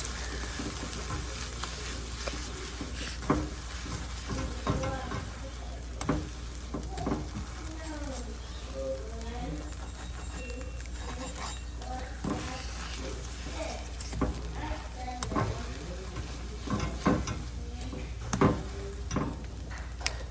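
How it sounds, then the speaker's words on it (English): A cheese sandwich crisps in a frying pan with a soft, steady sizzle and scattered clicks and taps. A person talks over part of it. "So you leave it for like 3 minutes to cook in order to achieve that golden brown and crispiness on the outside"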